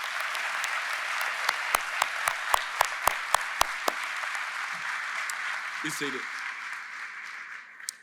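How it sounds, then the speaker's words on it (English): Commencement ceremony audience applauding the faculty: sustained crowd clapping fills the hall, with sharp louder claps standing out early, then the applause thins and a voice speaks briefly near the end. "Would you give them a round of applause at this time?"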